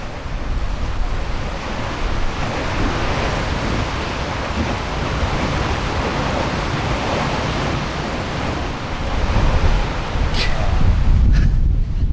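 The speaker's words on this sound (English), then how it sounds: "It is windy here." Strong wind in Hsinchu, Taiwan, roars steadily across the microphone with a broad rushing noise, swelling louder near the end; a faint voice briefly cuts through.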